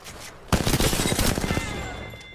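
Gunfire in the video game Apex Legends: after half a second of quiet, a sustained rapid burst of automatic shots erupts loud and close, tapering into lingering tails.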